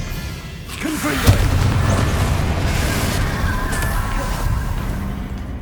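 A Confringo blasting spell in Hogwarts Legacy lands with a sudden boom, followed by a sustained roaring rumble of the blast and game ambience.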